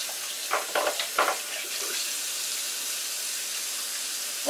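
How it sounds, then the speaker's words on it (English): A kitchen tap runs in a steady hiss while hands are washed beneath it, with a few brief splashy bursts early on, close and without talk. "Wash the hands again."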